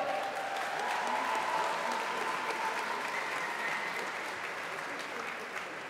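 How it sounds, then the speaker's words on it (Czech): An audience at an amateur boxing match applauds both fighters, a steady wash of clapping from a hall crowd that tapers slightly toward the end. "Prosím o velký potlesk pro oba borce."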